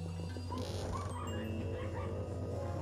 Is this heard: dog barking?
yes